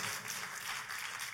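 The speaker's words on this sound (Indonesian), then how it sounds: "tepuk tangannya boleh paling meriah buat Tuhan kita" A church congregation applauding for God, a dense, steady wash of many hands clapping together at moderate volume with no speech over it.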